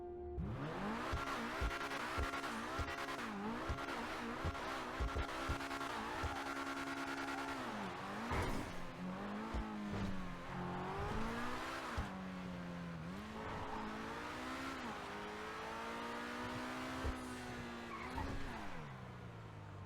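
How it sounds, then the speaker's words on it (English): A Pegassi Reaper sports car engine in GTA Online revs hard and repeatedly, pitch climbing and dropping through gear shifts, loud and close throughout. "let's quickly take a listen to the Pegassi Reaper."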